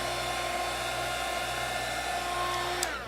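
A hair dryer blows steadily at close range, drying wet acrylic paint on a canvas during a cupcake painting session, a constant loud whir with no talk.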